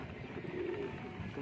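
Racing pigeon in a loft giving a soft, brief coo, faint and close, over quiet background.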